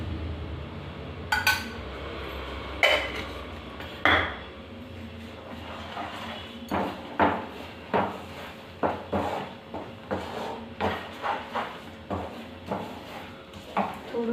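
A spatula stirs a thickening cashew mixture with ghee in a pan while making kaju katli: after a few scattered clinks, steady rhythmic scraping and tapping strokes repeat against the metal, close and fairly quiet.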